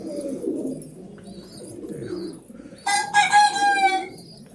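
Paired pigeons in breeding boxes, low soft cooing and shuffling at first, then a sudden loud bright burst of calling from birds close by.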